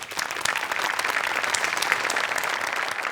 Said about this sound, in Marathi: तुझ्याकरता एकदा टाळ्या